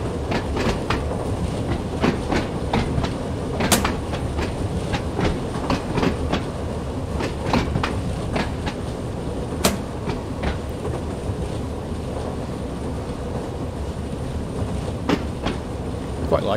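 A train on the Isle of Wight line in a Train Sim World 2 simulation runs steadily, with a continuous rumbling drive and repeated clickety-clack rail joints ticking by at intervals, heard close and without talk.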